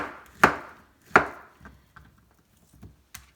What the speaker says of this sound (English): So we're going to slice these bananas.